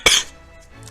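A single sharp cough from a man, close and loud, followed by quiet room tone.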